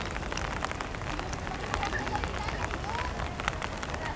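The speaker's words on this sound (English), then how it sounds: "It's not raining too heavily at all now." Light rain falls steadily across a botanic garden with fish ponds and large trees, a dense, even patter of drops on leaves and surfaces throughout, close and continuous.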